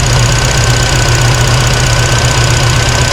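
A car engine fitted with a Holley Sniper 2 EFI idles at a steady low rumble, loud and close, with a constant even drone and no talk.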